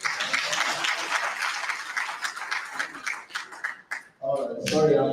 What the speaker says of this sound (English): maybe another applause for the moderator